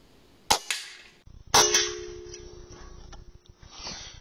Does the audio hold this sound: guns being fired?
yes